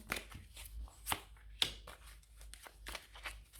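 Tarot cards shuffled and drawn by hand, a quiet run of soft riffling flicks and taps, close and faint with short pauses between.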